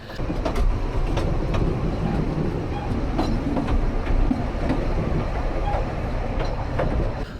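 A steam train runs steadily on its rails, a loud continuous rumble with repeated rhythmic wheel clicks over the track joints, heard close from aboard a passenger carriage.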